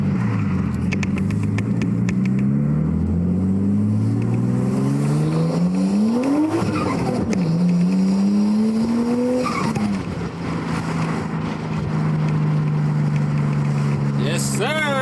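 Nissan R33 engine fitted with an ISR Performance downpipe and Tomei Expreme Ti titanium test pipe, revving loudly through rising and falling pulls with a harsh exhaust tone, turbo flutter and a brief drop between gears.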